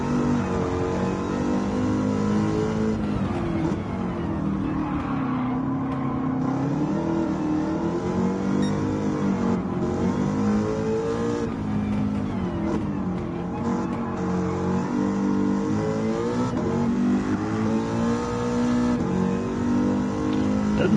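A race car engine in Gran Turismo 7 on PS5 revs and accelerates continuously, rising and falling through gear changes as it laps, loud and steady with no talking.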